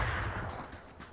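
Distant gunfire in the PUBG video game on the Miramar map, a muffled burst of shots rolling in from afar with no talk over it.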